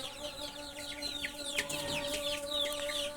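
Sonali chickens kept on a small layer poultry farm cluck in a busy, overlapping flock chorus, steady and fairly close throughout, with a constant low hum running underneath.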